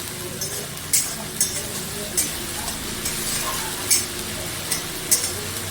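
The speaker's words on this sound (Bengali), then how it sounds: "এবার এই মশলাটাকে আমি কষাবো।" Spice paste stir-fried in a pan while cooking dudh potol, a steady sizzle with intermittent sharp clinks and scrapes of a spoon against the pan, close and moderately loud.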